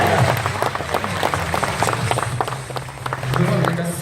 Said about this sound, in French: Je voudrais un tonnerre d'applaudissements pour mon assistant Estelle